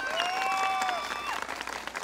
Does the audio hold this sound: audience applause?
yes